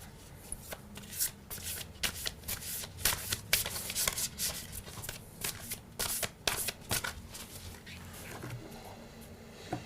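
A deck of reading cards is shuffled by hand up close, quick riffling bursts and soft slaps of cards being handled and laid out, with no talking.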